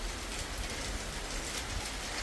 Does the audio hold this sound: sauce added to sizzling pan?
no